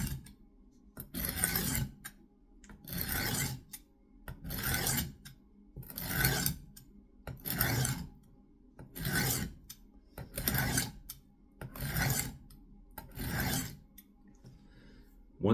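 A knife blade is stroked against a sharpening stone in nine steady, evenly spaced rasping passes, each about a second long with short pauses between, close and clear with no talking.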